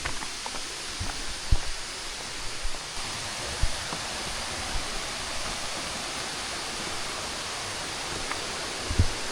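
Broadband roar of a Bali waterfall, steady and continuous at close range, with a few faint knocks and rustles now and then.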